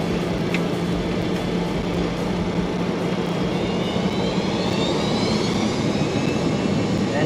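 Jet airliner engines spool up for a takeoff roll in Microsoft Flight Simulator, a loud continuous roar and rising whine holding steady throughout, with no talk.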